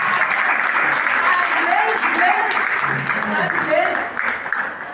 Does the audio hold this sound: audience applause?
yes